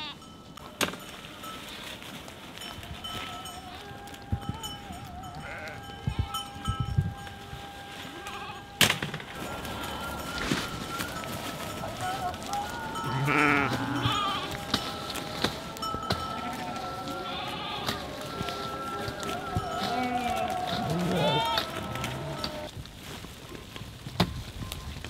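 A winter flock of sheep and newborn lambs bleats from a lambing pen, with many overlapping calls near and far over a steady background, and occasional knocks and voices.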